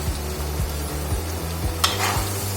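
Chilli chicken sauces, tomato and soy with green chilli, being stirred in a hot pan: a continuous close sizzle broken by regular scraping strokes of a spoon, with one sharper clatter near the end.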